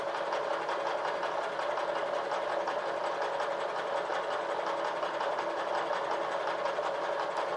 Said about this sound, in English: I think while I'm at it, I'll skim off that too, where the bolt goes.